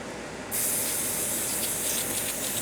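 A continuous close-up hiss of cleaner sprayed onto a Yamaha MG10/2 audio mixer, carrying on steadily for a couple of seconds after a sudden onset.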